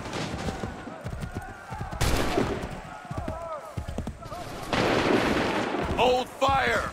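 Musket volley fire in Assassin's Creed 3, with several crashing discharges and battlefield noise as voices shout commands over the fighting.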